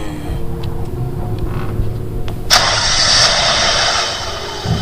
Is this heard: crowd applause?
no